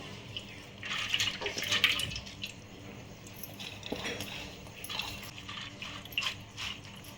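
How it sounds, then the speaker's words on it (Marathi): Water trickles and splashes in uneven bursts as it drains off soaked lentils for medu vada batter through a strainer, close by, with no voices. "आता ही याच्यातलं पाणी काढून टाकू आपण चाळीमध्ये ओतून घेऊ"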